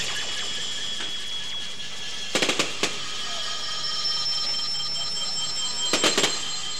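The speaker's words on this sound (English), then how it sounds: "You can see the fireworks." Fireworks burst over a cultural festival in Abeokuta. Two quick clusters of sharp cracks ring out against a steady tonal background, with a few distant pops between them.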